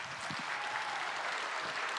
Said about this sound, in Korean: 우리 큰 박수로 목사님 맞이하겠습니다